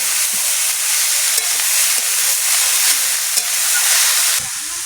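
Garden cabbage cooked as a vegetarian fry sizzles loudly in a pan, a dense, steady hiss broken by a few scraping stirs, close and with no talk.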